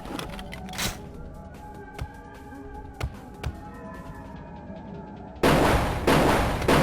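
Glock pistol shots crack in Vampire: The Masquerade – Bloodlines, several sharp separate reports spaced irregularly over a droning game background, then a loud burst of broadband noise near the end.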